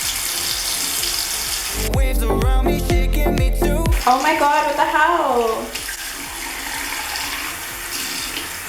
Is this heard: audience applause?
no